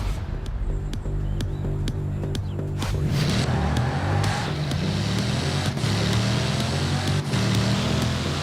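Racing car engine roaring steadily through a Forza Horizon 4 pursuit, a continuous loud drone with shifting pitch as the car accelerates, overlaid with game sound effects and no talk.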